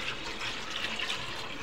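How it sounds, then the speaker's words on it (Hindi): Water poured into a bowl while making curry pakora kadhi, a steady close splashing and trickling that runs evenly throughout with no talk over it. "ये देखें जिस तरह इसी कटोरे में हम पानी भर लेंगे"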